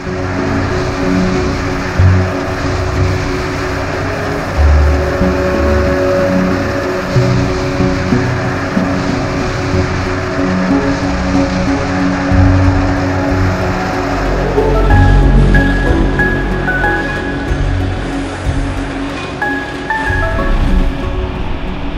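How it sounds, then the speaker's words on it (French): Small railway track tamping machines work on a rail construction site, a loud, continuous mechanical drone and rumble with shifting tones and clanks that runs unbroken for over twenty seconds. "on utilise vraiment ces petites machines pour remettre la voie en place au millimètre"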